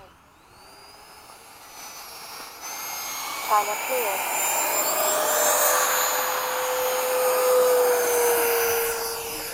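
Twin F-15 jet engines spool up for takeoff in formation, a loud, close roar with a rising high whine that builds and holds, while voices talk over it and a brief synthetic voice cue sounds.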